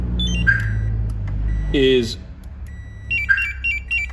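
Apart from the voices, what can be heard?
three beeps from a remote start remote indicating open door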